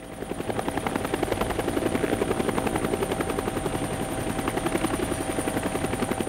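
Helicopter flying near the Cambodian border in April 1969, its rotor blades giving a loud, steady, rapid thumping over a continuous engine drone, heard up close and without any talk.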